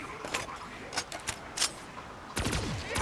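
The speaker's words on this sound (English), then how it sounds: "I was just trying to like shoot a little burst at a time" Video game gunfire in short bursts, a handful of sharp cracking volleys spaced out, then a denser rattle at the end, with mechanical clatter between and no speech.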